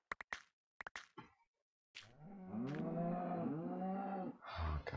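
Cows moo in the video game Minecraft: after a few sharp knocking thuds, one long, loud, wavering bovine moo carries for several seconds, followed by a short low grunt.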